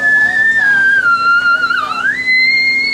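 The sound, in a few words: voice imitating a high whistle-register note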